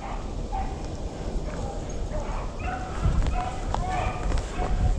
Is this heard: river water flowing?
no